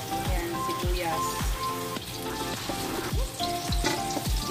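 Onion and garlic sauté in a little oil in a home kitchen, a crackling sizzle running throughout beneath intermittent tonal sounds and soft knocks.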